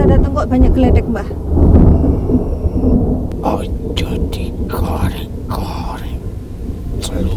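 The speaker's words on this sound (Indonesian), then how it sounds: "Kenapa Mbah waktu kita datang kok banyak geledek Mbah?" Heavy rumbling thunder during a thunderstorm at a grave site in Ponorogo, loud and rolling with rain beneath, while people talk quietly over it.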